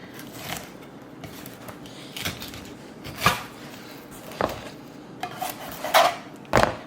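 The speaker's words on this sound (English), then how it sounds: "Get on that backbone, take the knife, angle it down." A knife angled down along the backbone fillets a surf-caught fish, producing close, intermittent scraping and tapping sounds with soft, brief knocks spaced irregularly, and no speech.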